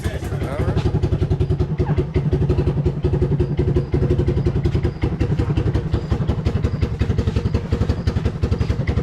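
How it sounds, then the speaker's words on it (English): A Kawasaki Bayou 220 ATV engine runs on a test ride, a loud, close, steady pulsing putter with a rhythmic clattering beat that continues throughout with only slight changes. "He's got that guy ready to run, so we're going for a test ride, right?"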